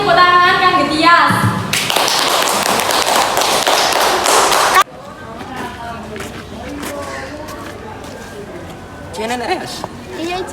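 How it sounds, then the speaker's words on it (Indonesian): A group in a school setting claps for a student named Tias, a dense burst of applause lasting about three seconds between stretches of people talking. "saniki tepuk tangan kangge Tias"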